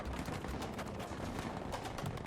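Dense, continuous automatic gunfire from a teammate in the World War II shooter Battlefield V, a steady loud wash of rapid shots with no pauses, heard in a nighttime infantry fight.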